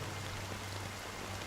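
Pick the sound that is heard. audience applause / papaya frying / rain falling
rain falling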